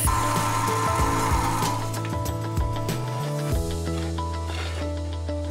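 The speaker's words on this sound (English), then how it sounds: "The V-shape was then roughed out on the bandsaw," A bandsaw cuts a V-shape into a metal finger plate clamping tool, a close, loud, continuous grinding whine with shifting pitch as the blade bites, ending in a steadier hum.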